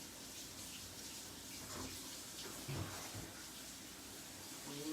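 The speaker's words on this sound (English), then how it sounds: "you run cold water over it" Cold water runs from a kitchen tap over pasta for macaroni and cheese, a steady close splash and gush that continues for several seconds without pause.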